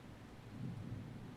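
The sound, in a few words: thunder during a thunderstorm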